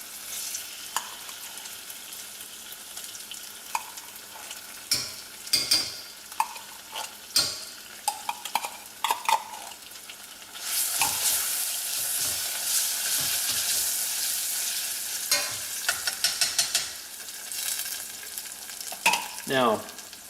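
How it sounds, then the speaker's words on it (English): Tomato paste and garlic browning in a pan for homemade pizza sauce, with a steady soft sizzle, repeated utensil scrapes and taps from stirring, and a louder hissing stretch midway. "Now I'm going to take my tomato paste, I'm going to put it in here. I want to brown this a little bit."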